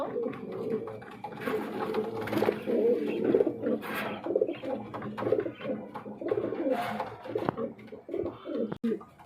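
A pair of healthy pigeons coo repeatedly at close range in a steady, overlapping series of soft, throaty calls.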